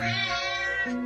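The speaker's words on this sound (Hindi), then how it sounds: "अरे देखो, ये बिल्ली रो भी रही है।" One short, plaintive meow from a cat that sounds as if it is crying, close and steady for about a second.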